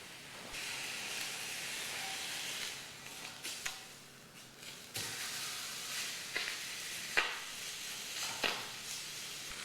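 Steak searing in a pan gives a steady broadband sizzle and hiss, with brief crackles and louder pops when the meat is moved and turned. No voices.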